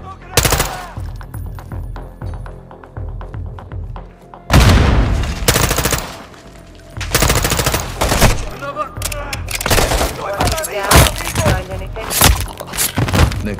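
Automatic gunfire and heavy bursts rattle through a Call of Duty: Modern Warfare II battle, loud and close, with sharp impacts and a big blast near the midpoint, plus faint radio-style voices underneath.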